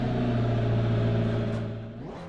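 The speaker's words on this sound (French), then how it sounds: "Allez, le bruit du moteur." A race car's engine in the sim-racing game Assetto Corsa Competizione, heard alone as a steady, loud idle drone with a rich harmonic hum that drops slightly in pitch near the end.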